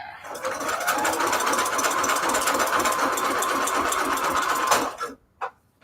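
Close and loud, a sewing machine set to straight stitch runs steadily through fabric for about five seconds, then stops with a couple of brief clunks.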